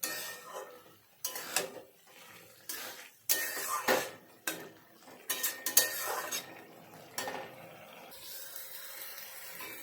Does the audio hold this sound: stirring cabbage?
yes